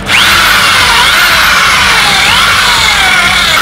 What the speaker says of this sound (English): And then I drill a second hole right here for my tube